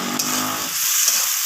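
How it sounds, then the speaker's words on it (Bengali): Chopped tomatoes frying with onions in a pan for a rohu fish dish, giving a steady close sizzle of broadband hiss that settles a little after the first moment, with no talking. "তো টমেটোটাকেও পেঁয়াজের সাথে আমি ভেজে নিচ্ছি।"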